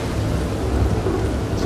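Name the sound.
thunderstorm in video game Red Dead Redemption 2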